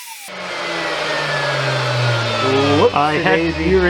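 Metal lathe cutting a double-start hollow spiral for a candle holder, feeding toward the headstock: a steady motor hum with a whine that slowly falls in pitch, then rattling, scraping cutter noise in the final second.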